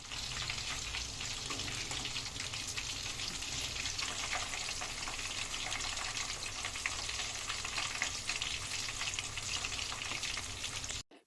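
Marinated chicken pakodi pieces deep frying in oil on a low stove, a steady, dense crackling sizzle that holds evenly close up for about eleven seconds before cutting off abruptly.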